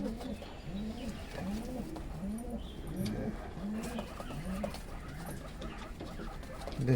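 Pigeons coo repeatedly in a soft, rhythmic pattern, several low rounded calls close by over a faint background hum.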